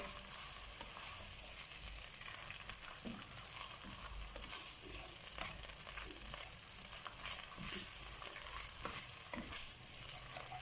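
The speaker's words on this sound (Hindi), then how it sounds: "चिकन को हम थोड़ा सा फ्राई करेंगे ताकि इसमें से स्मेल वगैरह ख़त्म हो जाए" Boiled, unsalted chicken pieces frying and being stirred in a pan, a steady close sizzle with scraping clicks and a few louder stirring bursts, no voices.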